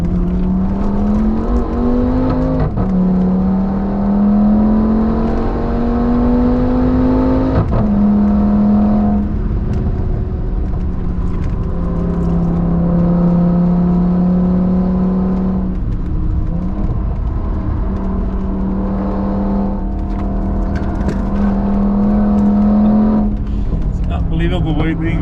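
A 2008 V10 Audi RS6 Avant C6 tuned to 900 hp lapping the Nürburgring, its engine droning loudly and continuously with rising and falling pitch through gear shifts, heard from inside the cabin while people talk over it.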